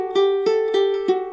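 Ukulele fingerpicking of the Crazy Train riff played over one held chord, notes left ringing together; four evenly spaced plucked attacks over a sustained, bright tone, close and clear with no talking.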